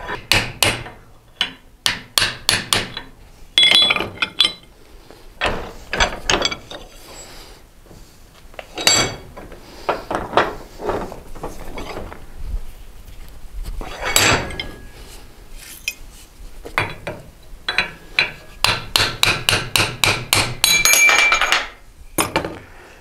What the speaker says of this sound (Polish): Trzeba obrócić obudowę na drugą stronę i puknąć z drugiej strony.